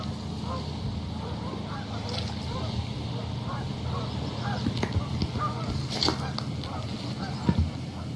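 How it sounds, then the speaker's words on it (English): Geese honking repeatedly amid a noisy outdoor background, the calls overlapping at moderate distance with a louder burst toward the end. "Sounds like the geese are communicating with each other."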